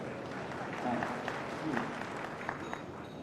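An audience claps at a political speech, giving a steady, faint patter of applause beneath a voice as he speaks.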